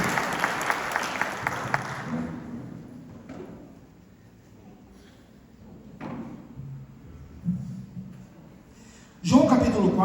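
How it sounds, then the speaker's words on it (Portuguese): A church congregation claps for the mothers during a service, a short burst of many hands that fades within about two seconds, followed by quieter room sounds, soft talk and a sharp thud near the end. "Vamos dar uma salva de palmas a essas mães?"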